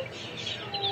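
Rhode Island Red Dark Mahogany chickens cluck nearby in a short, busy burst, with faint farmyard background noise.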